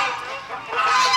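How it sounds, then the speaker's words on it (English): Geese honk and squawk in a loud, harsh chorus, several overlapping calls close by in a farmyard. "we're back to the squawky geese"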